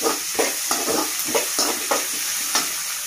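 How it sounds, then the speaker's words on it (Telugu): Sliced onion frying fast in hot oil for a brinjal and okra curry, with a steady bright sizzle and regular spoon scrapes against the pan about every half second, close and fairly loud. "ఉల్లిపాయ మనకు కొంచెం ఫాస్ట్గా వేగిపోతుందండి ఆయిల్లో"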